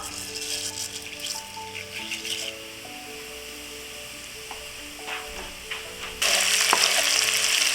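Whole cumin (geera) seeds crackle and sizzle in about four tablespoons of hot oil in a pot, a steady fizzing rattle under soft background music that grows louder and brighter toward the end.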